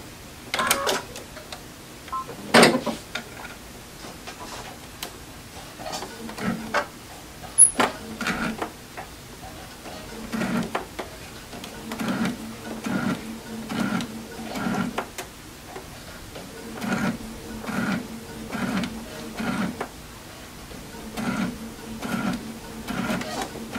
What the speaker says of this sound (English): I am going to sew with my needle just to the right side, or just to the inside of the seam allowance.